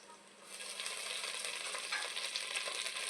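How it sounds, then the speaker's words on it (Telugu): Cardamom and other whole spices fry in hot oil for bagara rice, giving a steady, even sizzle that keeps going throughout with no voices. "ఇవన్నీ మంచి స్మెల్ వచ్చేంత వరకు వేయించుకుందాం."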